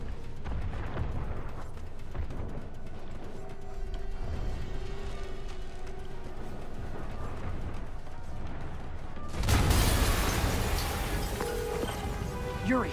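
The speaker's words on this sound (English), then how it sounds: "an explosion just..." A sudden loud boom from an explosion erupts in a Spider-Man video game, standing out from a quieter stretch of game sounds and mechanical hum, with a roaring, crackling tail lasting several seconds.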